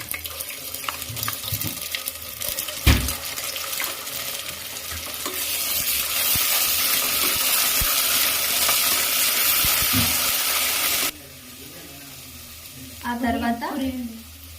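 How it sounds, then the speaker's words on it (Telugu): Ginger garlic paste fries and is stirred in a pan, a broad steady sizzle rising midway and cutting off abruptly near the end, with scraping stirs and a sharp knock early on. "గోల్డెన్ ఎల్లో వచ్చేంత వరకు వేయించుకోవాలి"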